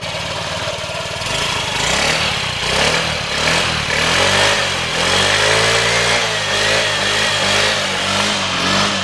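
A 2014 Honda Ruckus scooter engine is started and then idles, a steady small-engine putter with a light rumble and slight rises in pitch, loud and close throughout.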